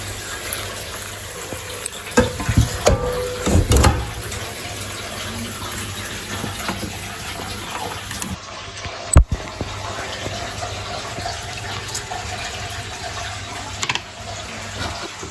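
Water runs steadily from a tap into a rice cooker pot, with a few clunks and splashes near the start, over a constant background hum.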